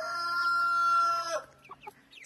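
Chickens, including small black-and-yellow chicks and a hen, cluck and call close by, with a loud sustained crowing-like call fading into a few short clucks.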